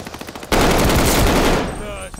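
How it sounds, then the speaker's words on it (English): Machine gun fire in Call of Duty Vanguard: faint pulsing shots give way to a sudden, very loud sustained burst of rapid fire lasting about a second before tapering off. "Somebody give me cover fire."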